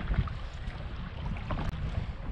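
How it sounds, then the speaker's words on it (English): Steady east wind blows across a lake while out fishing, a continuous low rushing and buffeting against the microphone, close and fairly loud, with no voices. "east wind, we got a front coming in."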